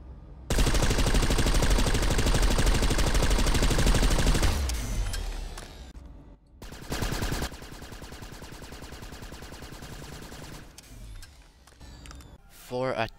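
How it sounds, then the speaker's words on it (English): An Orion light machine gun in the video game Planetside 2 fires a long, loud, rapid unsuppressed burst, then a quieter, muffled suppressed burst, with mechanical reload clicks near the end. "now I'm going to let you guys listen to the unsuppressed and suppressed noises for this weapon."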